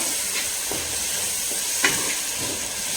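Biryani masala being stirred in a hot pan over high flame, a steady soft sizzle with a few faint scraping strokes of the spoon, heard alone at close range.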